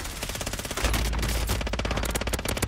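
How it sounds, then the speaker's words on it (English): Rapid, rhythmic machine-gun fire in Call of Duty Warzone, loud and close, the shots growing heavier and denser partway through with no speech. "we're getting shot from like everywhere."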